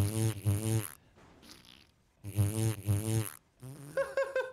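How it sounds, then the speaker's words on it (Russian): Cartoonish fart sound effects in Garry's Mod, two long buzzing, sputtering blasts separated by a pause, followed by a shorter higher-pitched raspy burst, loud and close. "Это что, новый звук пердежа?"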